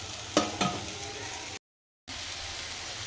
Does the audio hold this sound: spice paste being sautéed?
yes